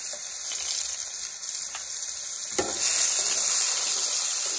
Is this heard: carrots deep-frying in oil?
yes